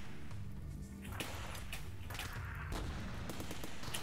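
Gunfire in the video game RimWorld Alpha 7, a few muffled shots and booms over a low rumbling background, fairly faint, with no talking.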